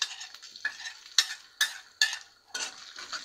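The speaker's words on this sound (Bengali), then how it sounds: "আদা আর রসুনটা এটার মধ্যে দিয়ে দেবো" Chopped ginger and three cloves of garlic fry in hot oil, a soft sizzle broken by several sharp scraping stirs of a utensil against the pan, close and fairly quiet.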